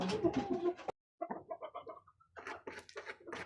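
A grey Jersey Giant chicken clucks close by in short soft bursts, a run of quick low clucks after a brief pause, with other birds chattering around it.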